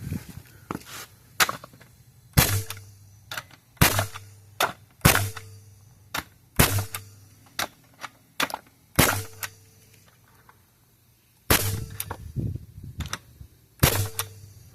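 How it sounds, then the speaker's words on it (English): A 3Plus 28-degree framing nail gun at just over 100 PSI drives 3-inch Stanley Bostitch nails, giving loud, sharp close bangs in irregular bursts, some in quick pairs, with quiet gaps between. "I have this thing set at, I think, just over 100 PSI. So let's give it a couple of test shots here."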